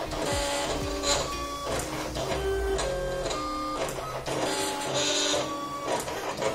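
A Silhouette Cameo 4 cutting machine runs steadily with layered motor whirring and shifting electronic tones, stepping in short bursts as its carriage moves, close and continuous with no talk.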